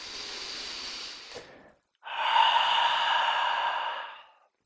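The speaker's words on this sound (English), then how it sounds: "Take a deep breath in." Deep yoga breathing during a workout: a soft airy exhale trails off, followed after a short pause by a long, fuller breath, both close and quiet with no talking.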